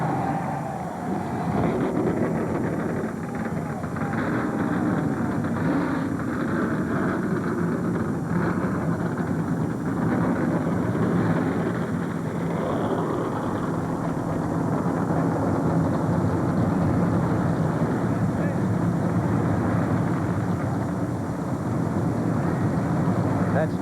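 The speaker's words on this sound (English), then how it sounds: "Broken now as 43 cars grumble to life and get ready to compete for 500 miles" Forty-three race cars fire up before the 2000 Pennsylvania 500 at Pocono, a steady, dense engine drone that holds without pause, heard from a distance with voices faintly underneath.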